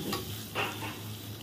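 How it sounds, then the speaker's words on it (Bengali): Egg frying in oil seasoned with salt and turmeric gives a short burst of sizzle and spatter, with a couple of sharp crackles over a low, steady hiss. "এবারে ডিমটা ভেজে নেব"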